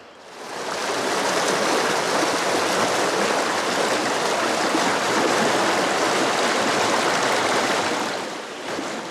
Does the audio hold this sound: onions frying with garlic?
no